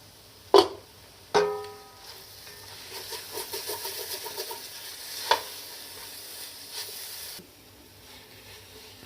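Chicken cooking in a pan for a spring roll filling, with a few sharp spoon-on-pan knocks and a run of stirring scrapes over a steady close sizzle, the frying hiss cutting off near the end.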